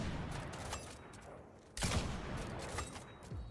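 No Land Beyond, an exotic weapon in the Destiny 2 video game, fires in loud bursts with a sharp shot-like onset partway through, over a continuous busy game soundscape.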